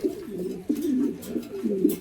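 Low, throaty cooing from pigeons kept for sale, including racer and lokka breeds and blue-bar birds. Several rolling phrases run back to back, close and fairly loud, with no talk over them.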